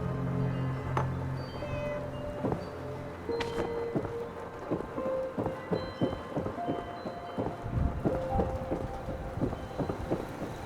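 A cat in the Fallout 76 video game meows amid rain and rumbling thunder, with short repeated meows over a busy stormy ambience and scattered clicks.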